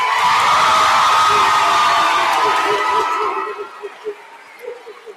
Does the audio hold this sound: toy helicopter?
no